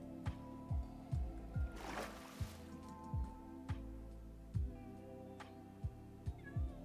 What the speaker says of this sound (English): Why would my cats try to follow me into the water?